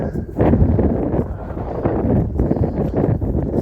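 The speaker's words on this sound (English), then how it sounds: "Wind's back with a vengeance." Strong wind buffets the microphone on an open Lake District fell near Devoke Water, a loud, continuous rumbling roar with gusty swells, heard alone without talking.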